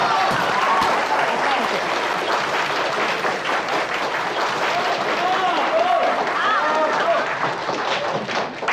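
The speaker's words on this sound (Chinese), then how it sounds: "大家掌声鼓励。" Office staff applauding a newly appointed investment department director, sustained dense clapping from a room of people throughout, with some thuds and murmured voices mixed in.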